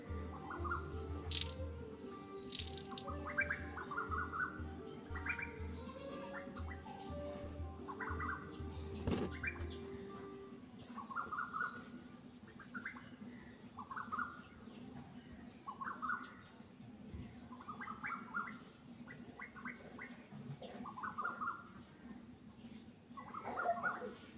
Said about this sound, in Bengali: এই পাখির আওয়াজগুলো শোনো একটুখানি